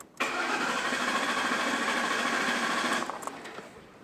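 Engine cranking over steadily on the starter during a compression test, a continuous rhythmic whir lasting about three seconds, loud and close, then stopping with a few trailing clicks.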